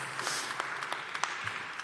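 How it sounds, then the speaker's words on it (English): A crowd at a tribute gathering claps in a quiet, scattered round of applause, faint and somewhat distant. "Rainbow Push Coalition, give yourselves a round of applause."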